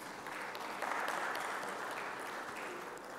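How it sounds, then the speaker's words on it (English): Steady applause from a crowd in a large conference hall, continuous and even, moderately distant, at an ICT conference in Tanzania. "A round of applause to the moderator and presenters, please"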